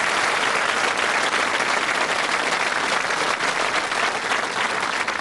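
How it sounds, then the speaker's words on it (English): Steady, dense applause from a game show studio audience on Bullseye fills the whole stretch at an even, loud level. "give our contestants a nice round of applause"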